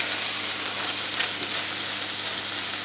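Onion and tomato cook together in a pan over medium heat, giving a steady, even sizzle and crackle that runs unbroken throughout, close by and with no voices.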